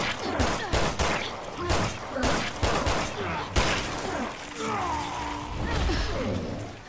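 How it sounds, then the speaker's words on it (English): Claire shooting the mutated Neil in Resident Evil Revelations 2: a string of sharp, loud gunshots at uneven intervals with shattering impacts and whooshes, then a tense, quieter stretch of game ambience. "have Claire shoot Neil in his stupid mutated face"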